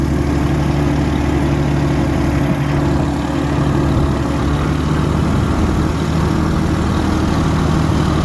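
A 1937 Oliver Hart Parr 70 tractor engine runs steadily in second gear after long sitting, giving a loud, continuous low rumble close by with no talking.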